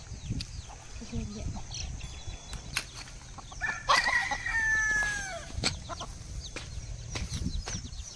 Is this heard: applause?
no